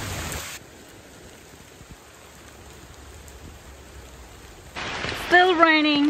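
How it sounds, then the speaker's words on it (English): Steady soft hiss of rain falling at Babinda Boulders gorge, a continuous wash of patter that swells louder near the end as a voice begins talking over it. "Still raining"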